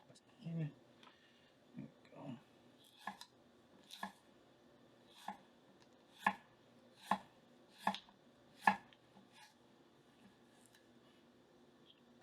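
A Japanese gyuto knife cuts through a carrot in about ten crisp, separate chops that land in an uneven rhythm against a board. They are close and clear in a quiet room, with a voice speaking faintly at the start.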